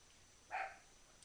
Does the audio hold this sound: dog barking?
yes